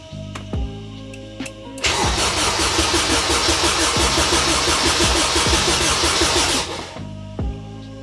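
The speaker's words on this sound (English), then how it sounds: "We do have the engine cranking, but we don't have fuel pump." A Honda K20 car engine cranks steadily for about five seconds without catching, with no fuel pump running, a loud rhythmic churning that stops abruptly, with faint clicks before and after.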